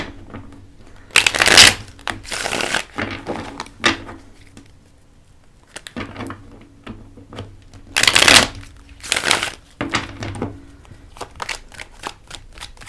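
A tarot card deck being shuffled in two bursts of crisp riffling and flicking, with softer card handling and taps in between, close and clear with no talk.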